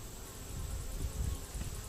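Honeybees at an open hive hum in a steady, continuous drone, a dense swarm buzz that swells slightly and holds close and fairly loud throughout, with no voices.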